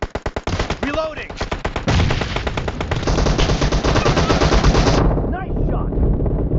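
Loud, rapid automatic gunfire from a PUBG Mobile battle royale match, with several bursts of closely spaced shots followed by a sustained stretch of continuous fire that cuts off near the end.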